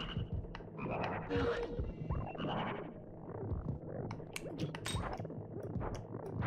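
Cartoonish frog croaks from a puzzle video game, several short croaking calls repeating over busy game music and effects, loud and close throughout.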